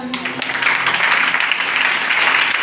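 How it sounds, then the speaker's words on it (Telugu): A church congregation bursts into applause, many hands clapping together in a dense, loud burst that carries on steadily to the end, with a voice briefly heard at the start. "రాజు అని నమ్మిన వాళ్ళందరూ చప్పట్లు కొట్టండి."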